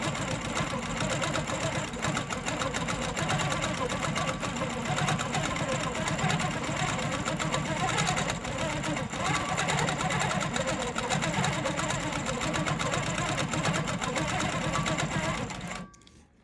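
A QMP 20 longarm quilting machine stitches a meander pattern, giving a steady, fast, whirring mechanical drone at a constant rate for about sixteen seconds before it stops abruptly.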